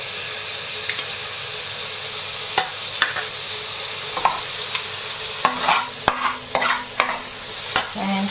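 Oil and butter sizzle in a pan for pancit canton, a steady close frying hiss under a few sharp clinks and stirring knocks from a utensil.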